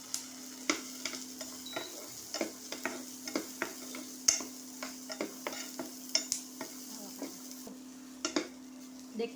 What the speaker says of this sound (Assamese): ফ্ৰাই পেনটো মই গৰম পাতি থৈছিলোঁ, এইখিনি ধুনীয়াকৈ ফ্ৰাই কৰি ল'ম